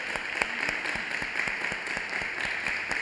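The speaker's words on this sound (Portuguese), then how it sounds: "Dê uma salva de palmas para Ele." A church congregation applauds in a sustained burst of clapping, moderately loud and fairly even throughout.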